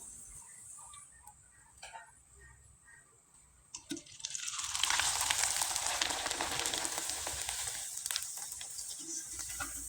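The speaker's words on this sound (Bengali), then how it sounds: "একইভাবে আরও দুইটা পিঠা ভেজে দেখিয়ে দিচ্ছি" Kol pitha cakes fry in hot oil, starting with quiet clinks and handling noises before a loud, steady sizzle breaks out and continues to the end.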